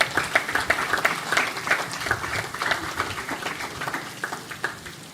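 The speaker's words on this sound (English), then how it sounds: "A round of applause." Audience applause at the official opening of a national exhibition for an underwater park, a steady close burst of many hands clapping that carries on throughout with no pause.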